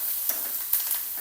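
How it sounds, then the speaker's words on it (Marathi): Onion sautéing with turmeric and curry leaves in a pan for a Maharashtrian peanut amti, giving a steady close sizzle with a few soft stirring scrapes. "कांदा लालसर होईपर्यंत परतवायचा।"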